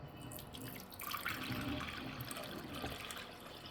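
A liquid mixture containing garlic is poured over a coffee-rubbed rosemary roast, a steady soft splashing and trickling pour, close and fairly quiet, with no talk over it.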